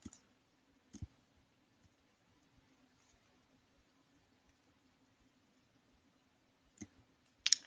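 Computer mouse clicks, a few sharp, quiet, isolated taps spaced out over near silence, with a low steady hum underneath.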